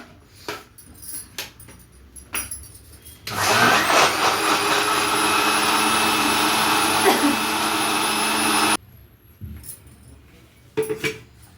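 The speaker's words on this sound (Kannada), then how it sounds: "ಇವಾಗ ಗ್ರೈಂಡ್ ಮಾಡ್ಕೊಂಡಿರ್ತೀನಿ" A mixer grinder grinds a sweet mixture in a home kitchen, a loud, steady whirring roar that runs for several seconds, with clinks and handling noises before and after.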